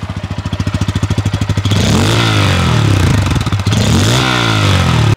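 A motorcycle engine cranks with rapid rhythmic chugging, then catches and roars loudly, revving up and down close by before cutting off.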